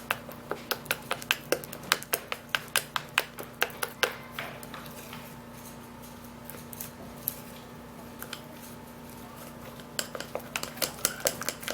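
A homemade skin repair remedy mixture is stirred briskly in a small bowl, the utensil giving rapid, sharp clicks and taps against the sides, with a brief quieter pause in the middle before the clinking picks up again.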